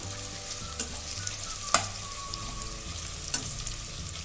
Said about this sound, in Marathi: कांदा टाकल्यानंतर चार ते पाच तेजपान कांद्यामध्ये टाकायचे आहे परतायला